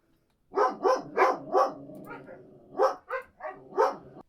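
Several dogs at a house bark in a quick burst of four loud, close woofs, then after a short pause a few more sharp barks and yips, with a faint whimper between.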